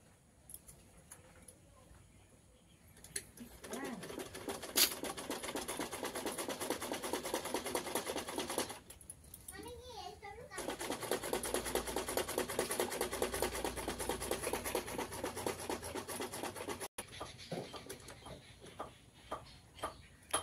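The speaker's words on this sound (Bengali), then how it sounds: "এবার আমি সেলাই শুরু করবো।" A home sewing machine stitches a child's dress in two long runs of rapid, even ticking, with a short pause between them and quieter handling sounds before and after.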